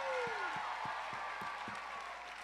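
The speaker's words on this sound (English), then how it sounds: "Let's give the big band a big round of applause." Audience at a dance awards closing show in Las Vegas applauds the big band, a distant, diffuse wash of clapping that slowly tapers, with faint voices underneath.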